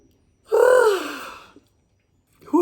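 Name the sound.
deep breath in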